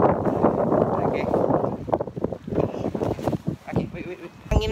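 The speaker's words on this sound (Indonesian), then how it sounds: "Angin lagi kencang banget di sini nih." Strong gusty wind buffeting the microphone outdoors, a loud rumbling roar that eases and surges, with a person talking through it.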